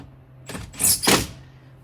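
Power window motor in a 2015-2024 Ford F-150 door, a short, close whirring run lasting under a second, ending with a soft thump.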